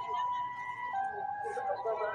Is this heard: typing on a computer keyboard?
no